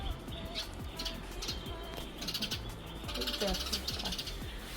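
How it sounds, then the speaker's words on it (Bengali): A bird chirps near a kitchen window in a quiet home setting, giving short repeated calls spread through the clip over a steady background hum. "পাখিটা রান্নাঘরের জানলাটাতে গিয়ে বসে ও সকাল থেকে কিচির কিচির করছে"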